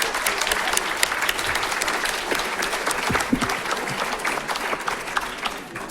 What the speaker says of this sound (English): give Vicky a big round of applause?